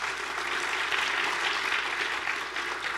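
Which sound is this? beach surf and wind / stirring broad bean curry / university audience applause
university audience applause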